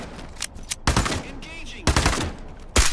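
Gunfire in the video game Into The Radius 2, three loud sharp bursts of shots spaced about a second apart, each ringing briefly before fading, with quiet gaps between.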